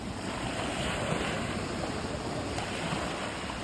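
Sea waves wash steadily at a beach resort in Egypt, a continuous near surf hiss with no voices and no distinct breaks between waves.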